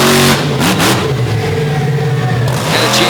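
A big Chevrolet pulling truck with a one-of-a-kind chassis revs hard at a truck pull, its loud engine roaring and surging close by, pitch swelling and easing in strong bursts with no talk over it.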